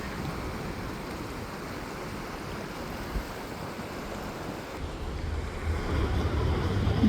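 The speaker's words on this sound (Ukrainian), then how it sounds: "швидка, бурхлива річка" Continuous roar of a fast, turbulent river in Calgary, broad and steady, with a slight rumble of wind growing near the end.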